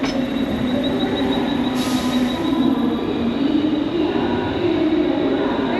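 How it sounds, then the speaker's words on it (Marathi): A Mumbai train rumbles steadily past on the rails, close and loud, with a thin metallic wheel squeal running through the continuous roar. "मुंबई ट्रेन गेली."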